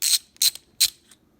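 Ratchet with an 11mm socket clicking as it loosens top parts, three short bursts of quick ratcheting a few tenths of a second apart, close and fairly crisp with quiet gaps between.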